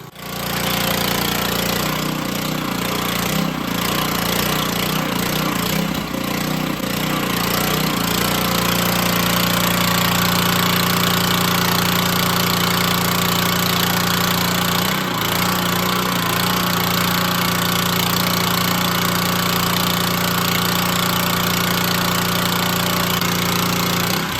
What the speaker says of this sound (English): We have a video on this exact pressure washer on how to use this.